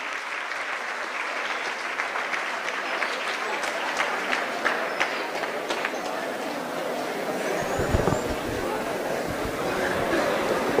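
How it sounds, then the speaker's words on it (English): Audience applause at a university science lecture, steady sustained clapping from a large crowd with some chatter mixed in, swelling slightly near the end. "Big round of applause, please."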